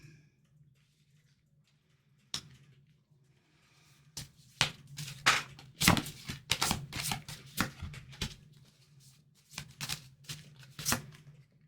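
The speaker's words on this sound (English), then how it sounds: "a few more cards and lay them down" Tarot cards are shuffled and laid down on a table, with sharp flicks and soft slaps arriving in irregular clusters, close and crisp over a faint low hum, with no talking.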